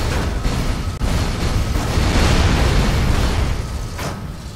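Explosions from a vehicle-mounted turret fired while driving in the video game Dead Rising 3: a dense, loud roar of blasts and rumbling, with a sharp boom near the start and another burst toward the end.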